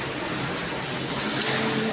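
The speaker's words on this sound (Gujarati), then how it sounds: "વરસાદ ચાલુ છે." Rain falls steadily during a windy spell, a soft, even hiss of drops that stays uniform and fairly faint over the short stretch, with no talking.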